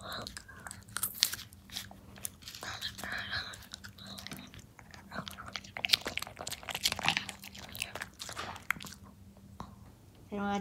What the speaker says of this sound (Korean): 당근만 씹어야지